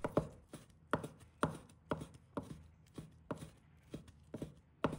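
A knife chops food on a cutting board in steady, evenly spaced strikes, roughly two per second, close and clear with no talking.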